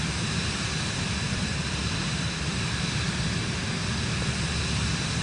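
Steady broadband roar of an airliner's engines on landing approach in Microsoft Flight Simulator 2024 on PS5, a constant loud drone with no change in level and no voices.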